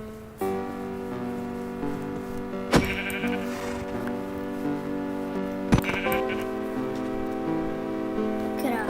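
Sheep bleat in a video game, sustained wavering calls that carry on steadily for several seconds and stand out clearly. Two sharp clicks cut in partway through, and no one speaks.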